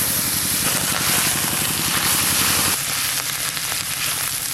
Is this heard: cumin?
yes